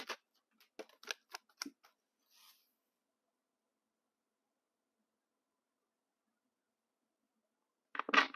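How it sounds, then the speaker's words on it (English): Tarot cards drawn from a deck make a few quick, close papery snaps and flicks in the first two seconds. Near silence follows, then a short rustle at the very end. "Just give me a few seconds to draw some cards here."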